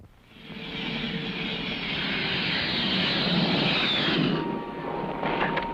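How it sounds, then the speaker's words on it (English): A steady, loud roar of a Grumman Tiger jet engine, holding level for several seconds before easing slightly near the end. "this is my friend, the Grumman Tiger. It's a jet"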